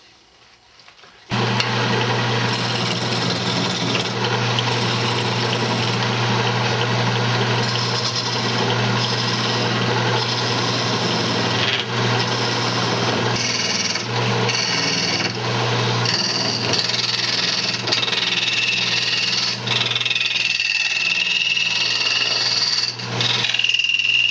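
Myrtle wood being shaped into a vase on a lathe: a steady, loud rasping cut over a constant motor drone, starting after a brief quiet moment and continuing without break.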